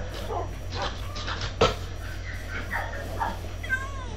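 A dog in a video game gives a few short, faint whimpers and yips scattered across a few seconds against a quiet background.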